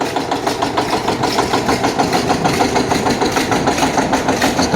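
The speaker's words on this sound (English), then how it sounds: "Starting it with an electric starting motor." A 730 diesel tractor running at a harvest parade after an electric-starter start, giving a loud, steady, knocking idle with a rapid even chug and no speech over it.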